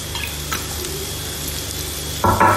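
Spinach and coconut thoran being stirred in a pan over a low flame, a steady soft sizzle with a brief scrape near the start and a louder burst of stirring clatter toward the end, no voices.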